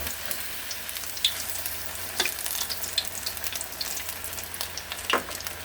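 Chicken fries in cooking oil with a steady, soft crackling sizzle throughout, broken by a few sharper pops and spatters; no one speaks.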